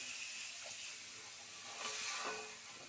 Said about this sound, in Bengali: এবারে দিয়ে দেওয়া হচ্ছে এক কাপ পরিমাণ মতো উষ্ণ গরম জল